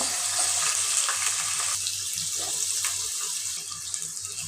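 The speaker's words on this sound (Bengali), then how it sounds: "পেঁয়াজটা আমি লাল করে ভেজে নেব" Onion frying in oil in a pan, a steady, loud sizzle and hiss that continues throughout with no talk.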